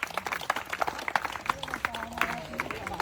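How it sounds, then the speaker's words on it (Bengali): An audience claps at a rope-hanging challenge game, a dense run of quick, uneven hand claps close by, mixed with crowd voices throughout. "সবাই তালি হবে।"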